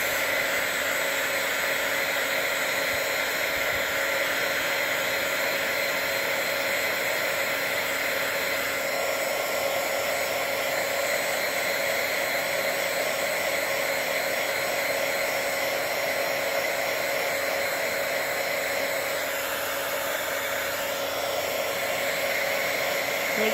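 A craft heat gun blows a constant, loud whooshing hum while heat-setting embossed snowflakes, steady and unbroken with no talking.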